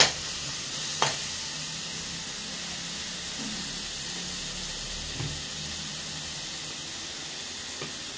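A palak paneer paratha fries in a hot pan with a steady, close hiss and sizzle. It carries on evenly for several seconds, with a few faint clicks and stirs and no voices.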